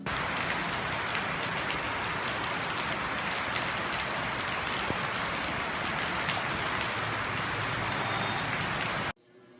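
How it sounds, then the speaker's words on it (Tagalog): Heavy rain pours steadily in a dense, continuous hiss with pattering drops on surfaces, then cuts off abruptly near the end. "biglang ang bumuhos ang malakas na ulan"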